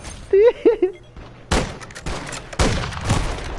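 Gunfire in Call of Duty Warzone: two heavy bursts of shots with ringing tails follow a brief voice exclamation, loud and close.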